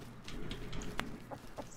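A chicken in the survival video game Rust gives a few short clucks over a constant hum of game ambience, close and moderately loud, with no talk.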